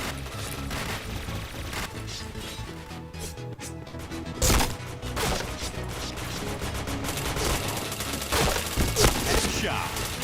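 Gunfire rattles through a PointBlank online shooter match as a dense, continuous wash of shots and impacts, with one louder, sharper blast near the middle; a voice is faintly present underneath.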